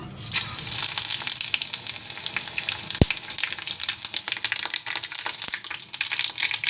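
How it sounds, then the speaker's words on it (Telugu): Dried red chillies and mustard seeds hitting hot tempering oil produce a loud, continuous sizzle with sharp crackles and pops scattered throughout, close up and with no voices. "వేడెక్కింది ఆయిల్ సో ఇప్పుడు ఎండుమిర్చి ఆవాలు వేసుకుందాం"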